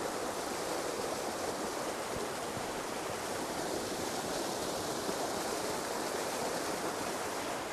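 A waterfall stream pours over rocks in an autumn landscape, a steady, dense rush of water that stays loud and unbroken throughout, with no talking.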